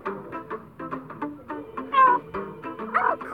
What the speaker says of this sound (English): You're a bad cat, you stupid cat.